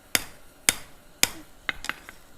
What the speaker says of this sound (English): you want to try to hammer consistently in a rhythm